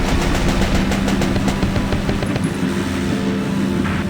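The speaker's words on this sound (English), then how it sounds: "I'll shoot." In the Valkyria Chronicles game, rapid machine-gun fire rattles loudly and without a break, a dense stream of close shots over a rumbling background.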